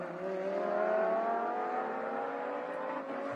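GT race cars, Porsches and an Audi R8, run on a Malaysian circuit, heard as a steady, moderately distant engine drone with a slowly falling pitch, like a car holding speed on a straight, with no one talking.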